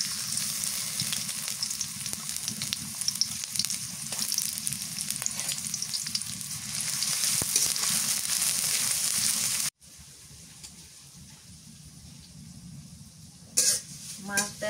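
Chopped onions fry in mustard oil with a loud, dense sizzle and occasional stirring clatter, then drop to a quieter crackle near the end while someone talks over the cooking.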